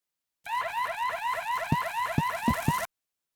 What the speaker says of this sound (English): but soon an alarm went off